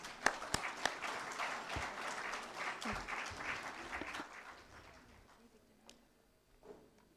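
Graduation ceremony audience breaks into dense applause with a few sharp claps at the start, holding full for several seconds before thinning out and fading to scattered claps and quiet murmurs.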